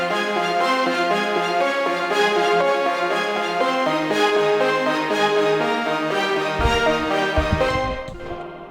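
Cinematic orchestral ending section with a busy string ostinato layered with synth, dense and energetic throughout, joined by low percussive hits late before cutting off.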